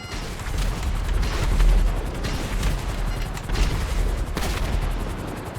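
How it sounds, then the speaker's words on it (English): Dense bursts of gunfire in GTA Online's Cayo Perico Heist crackle and boom almost continuously, loud and close, with rumbling impacts swelling and fading in waves. "I deduce from the sound of gunfire that you have not gone for the stealthy approach"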